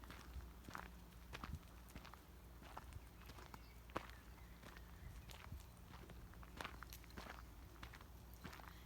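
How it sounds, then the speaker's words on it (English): Quiet, steady footsteps crunch on gravel in a regular walking rhythm, soft and close, with a calm outdoor background. "You can just hear my footsteps on the gravel"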